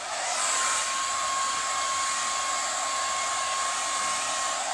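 A handheld hair dryer blowing hair dry at home, with a loud, steady, continuous whoosh and a thin motor whine held close throughout, with no talk.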